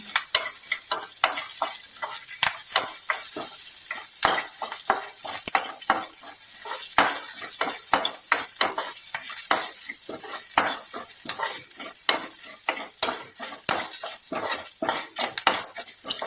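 Red chillies and curry leaves frying in a pan, sizzling steadily throughout with frequent sharp scrapes and taps of a stirring utensil against the metal, close and fairly loud, with no talking.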